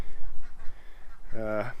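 A single short duck quack rings out near the end at a duck enclosure with a pond, following a stretch of soft background murmur.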